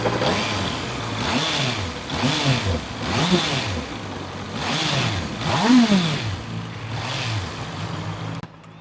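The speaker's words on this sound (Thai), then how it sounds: "ฟังเสียงเครื่องหน่อยดีกว่า เครื่องเดิมๆหมดท่อเดิม" Stock engine with original stock exhaust on a naked motorcycle, revved repeatedly in rising and falling bursts, about six throttle blips close by with a steady idle between them, no talking.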